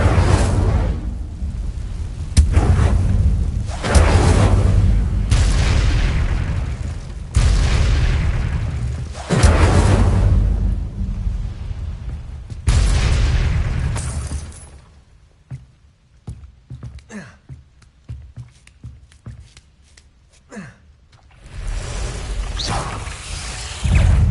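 Fire spell casts in Hogwarts Legacy, a wizarding action game: a string of booming, whooshing fiery bursts, loud and close, with rumbling tails and a quieter stretch of crackling before the blasts return.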